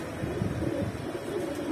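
Pigeons coo softly in a loft housing old, fancy racing and homing birds, low rolling coos repeating continuously at close range with faint wind noise and no talk.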